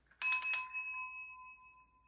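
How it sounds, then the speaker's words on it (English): A single bright bell strike rings out clearly, its metallic tone sustaining and slowly fading over about two seconds in a quiet space. "I'm ringing the bell."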